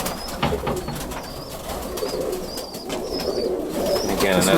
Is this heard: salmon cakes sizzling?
no